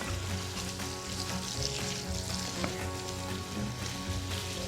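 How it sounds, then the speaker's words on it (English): Sausage and onions sizzle steadily in a pan for a breakfast feast, a dense continuous crackle close up with no talking. "This sausage is browning up really nice."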